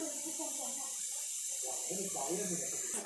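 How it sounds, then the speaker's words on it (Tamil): Water churns at a boil in a pot for kuska biryani, giving a steady bubbling hiss beneath continuous close-up talking. "இப்போ பாருங்கள் தண்ணி நல்லா கொதிக்குது"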